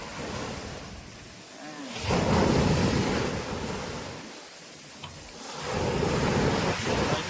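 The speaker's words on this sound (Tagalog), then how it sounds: "Ayan, lakas ng alon, no?" Strong ocean surf on a beach at Laiya, Batangas, rolls in and crashes in two big surges, with steady roaring wash and wind buffeting the microphone between them.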